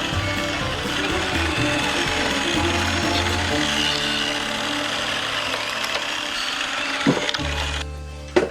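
A 1/16 scale hydraulic RC wheel loader, a 2023 Kabolite K966, makes a steady mechanical whir with ratcheting gear noise as it slowly articulates through a turn, running close and continuous, with a sharper knock near the end.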